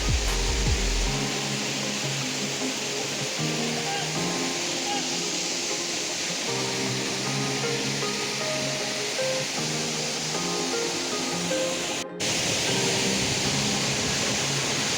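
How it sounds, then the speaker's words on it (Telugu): Kothapalli waterfall roars as a loud, constant rushing wash of water, steady and close throughout with no break. "అదేమో మా వాటర్ ఫాల్స్"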